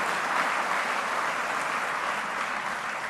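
A conference audience gives steady, sustained applause for the Reserve Bank of India governor after his special address at a banking event, a dense even wash of clapping that holds level throughout.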